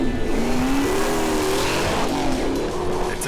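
A Mustang drag car with a self-built E85 ethanol engine launches down the strip, its engine roaring loud and continuous as it revs up through the run, with no one talking.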